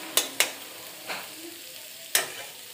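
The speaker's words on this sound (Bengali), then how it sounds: "এখন মশলাটাকে ভালো করে ফ্রাই হতে দেব" Ground spices including cumin and coriander powder frying slowly on low heat for a soybean curry, with several sharp spatula scrapes and stirs against the pan over a faint background sizzle.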